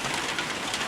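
Rain falling on a zinc roof at a large coal kiln site in Runaway Bay, St Ann, Jamaica, a steady, dense hiss of drops filling the moment without pause and without voices.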